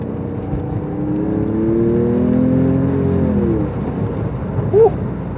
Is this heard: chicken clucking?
no